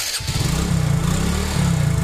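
A Hero Glamour motorcycle engine starts and settles into a loud, steady low putter close by, running continuously with a slight rise in revs near the end.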